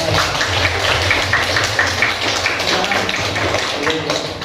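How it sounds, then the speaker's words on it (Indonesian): Applause from a classroom audience after a group presentation at a teacher-training session, a dense steady patter of clapping hands lasting throughout, fairly loud with a low hum beneath. "Berikan aplaus untuk Bapaknya."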